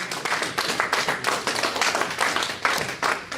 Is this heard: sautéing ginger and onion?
no